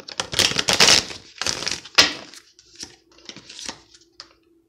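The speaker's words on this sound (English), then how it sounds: "One more shuffle, and then we'll pull a card from the playing card deck" A deck of playing cards being shuffled during a tarot-style reading, giving a quick run of crisp riffling and flicking bursts in the first half, then a few softer scattered card snaps and taps, close and dry.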